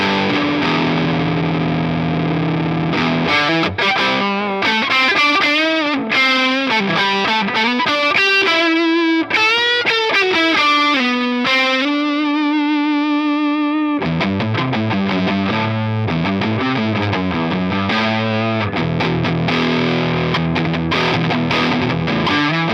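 Electric guitar run through a fuzzy, small-amp vintage Fender-style tone with the bass cranked, playing loud, continuous riffs and chords with a short pause midway, no voices.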